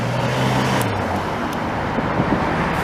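A Porsche driving by on a snowy street in Montreal's Snowdon district, a loud steady road and engine roar filling the whole stretch.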